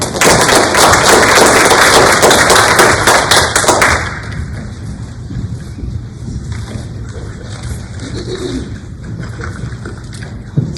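Audience applause at a school board meeting, a dense burst of clapping for about four seconds that then stops abruptly into quiet room noise.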